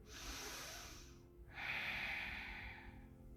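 Audible breaths taken during a beginner yoga exercise, close to the microphone: a long airy breath, a short pause, then a stronger hissing inhale over a low steady background hum.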